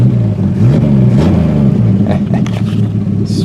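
A 1950 Studebaker Champion, just revived after 40 years stored in a shed, revs up in a loud, close, rumbling burst as the engine picks up speed and settles.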